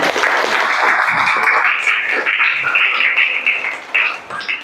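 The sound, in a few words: classroom applause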